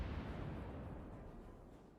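A torpedo strikes a warship in World of Warships with a deep, rumbling explosive boom that fades slowly, dense and low with no talk over it.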